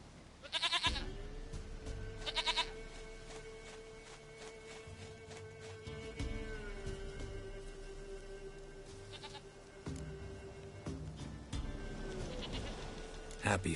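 A goat in The Witcher 3 gives a few short bleats in separate bursts against a steady droning background tone. Speech is also present.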